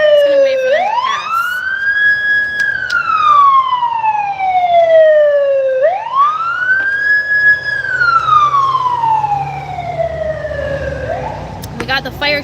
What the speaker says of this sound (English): We got the fire truck for confirmation.